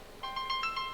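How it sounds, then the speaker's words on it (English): Phone ringer sounding after being triggered from a Pradory smart watch, a bright repeating electronic ring tone with several short pulses, fairly faint and heard alone. "It will sound the ringer on your phone."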